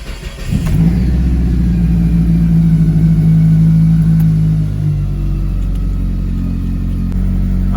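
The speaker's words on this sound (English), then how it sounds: "let's crank the engine and check those O2 sensor readings" A car engine with catalytic converter efficiency faults P0421 and P0431 cranks briefly, catches and settles into a loud, steady running hum that continues to the end.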